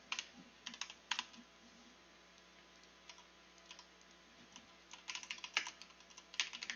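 Close, quiet computer keyboard typing in scattered bursts, clusters of quick key taps separated by pauses over a low steady room hum.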